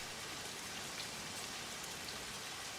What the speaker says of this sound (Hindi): बहुत बारिश भी हो रही है